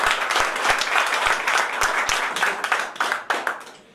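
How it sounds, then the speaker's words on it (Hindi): An indoor audience claps together in a burst of applause, with a few sharp individual claps up front, steady for a few seconds and then thinning and fading out. "उसके लिए एक बार ताली चाहूंगा।"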